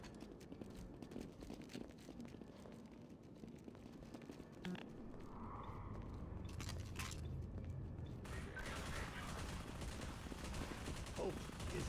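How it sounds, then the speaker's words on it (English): Half-Life 2 gunfire crossfire in City 17, rapid distant automatic bursts and scattered shots crackling through ambient noise, footsteps and game sounds mixed in, fairly faint throughout. "there's already a crossfire between these guys"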